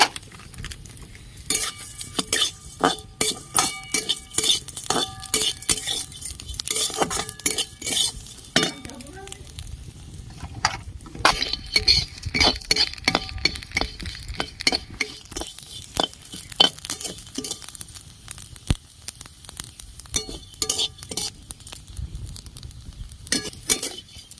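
Vermicelli frying in ghee in a hot wok, heard as steady scraping and clinking of a spatula against the metal with a faint sizzle underneath, continuing in uneven bursts.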